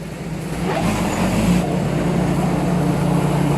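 A rice combine harvester's engine rising in a steady loud drone as it starts into the crop, a low rumble with a faint mechanical whine building after the first half second.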